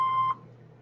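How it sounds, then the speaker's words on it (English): Answering machine beep: a single clean electronic tone, about a third of a second long, cut off sharply and followed by faint background hum. "Please leave your name and phone number after the beep."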